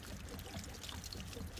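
Water drains and trickles from an RV hot water heater tank with the cap removed, a soft continuous pouring hiss, faint and steady with no talking.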